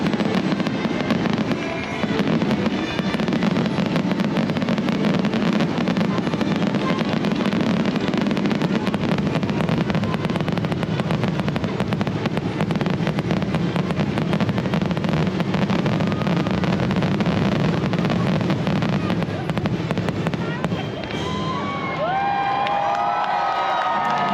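Fireworks display at a crowded San Diego County Fair on Independence Day, loud and continuous with dense crackling bursts and booms, crowd cheering and shouting underneath, fading near the end.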